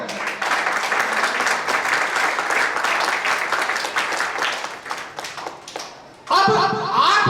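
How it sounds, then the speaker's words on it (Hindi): Audience applause at a children's Gita recitation gathering for Mahashivratri, a steady crowd clapping for several seconds that fades briefly before a burst of music or voices enters near the end. "तालियां बजाएं।"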